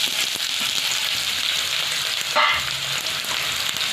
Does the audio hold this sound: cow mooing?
no